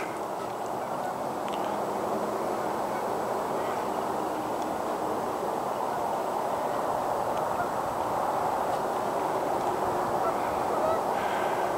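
Geese honk near a big island on a river, a continuous mass of overlapping calls from a flock at a distance, steady and fairly loud throughout with no talk.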